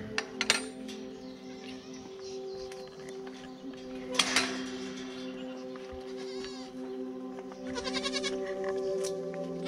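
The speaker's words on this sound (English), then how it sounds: "Look at that bad goat." A baby meat goat bleats several times on a farm, with clinks and other farm noises around the bleats.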